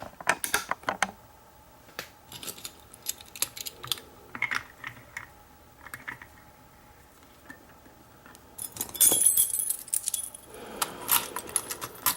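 Key turning and clicking in a clear acrylic rim cylinder lock during a repinning demo, a series of small metallic clicks and scrapes at close range, with a louder rattling burst of keys near the end.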